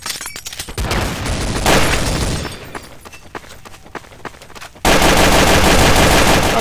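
Rapid automatic gunfire from a gun in the shooter game Counter-Strike: Source comes as loud, dense bursts of close shots with short gaps between them, followed by a sustained burst of fire at the end.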